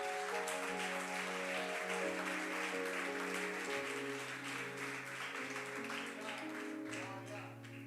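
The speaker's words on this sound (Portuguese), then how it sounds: "Aplauda Jesus" Church congregation applauding with steady, sustained clapping, held under a constant bed of organ or keyboard tones.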